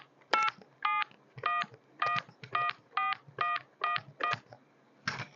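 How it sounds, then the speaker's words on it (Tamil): Keypad tones from a 4G LTE modem phone, about eleven short, evenly spaced beeps held close to the microphone, each a clear steady tone with short quiet gaps between. "நான் டயலரை வந்து மைக்கு பக்கத்தில் வச்சுட்டு டயல் பண்ணுறேன்"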